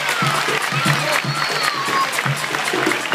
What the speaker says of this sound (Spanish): Yo quiero escuchar un aplauso para nuestro presidente.